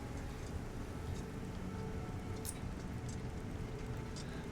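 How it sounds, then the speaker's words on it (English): Steady rain falls in Clockwork City in Elder Scrolls Online, a soft even hiss of drops with faint occasional ticks, quiet and continuous with no voices. "Oh, it started raining, that's why."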